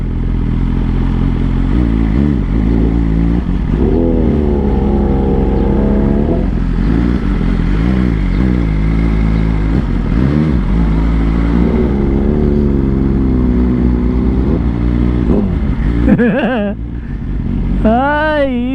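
A BMW S1000 XR motorcycle engine revs repeatedly with auto-blip shifts, a loud, close, wavering roar that rises and drops through the gears, with quick sharp blips near the end.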